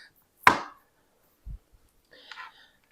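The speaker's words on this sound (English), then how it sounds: "So I'm just chopping them up into cubes." A single sharp knife chop through butter on a cutting board, cutting it into cubes, followed by a soft thud and a faint scraping sound, with quiet pauses between.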